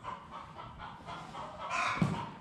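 Several chickens cluck and murmur together nearby in a barn, a steady low chatter with a slightly louder squawk near the end.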